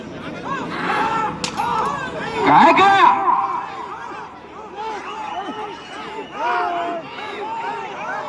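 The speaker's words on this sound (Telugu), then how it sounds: "కేకలు విజిల్స్" Crowd shouting and whistling at an old-category event in Ulimella village, Mudigubba mandal, with a steady wash of voices, rising cheers and piercing whistles that swell and fade throughout.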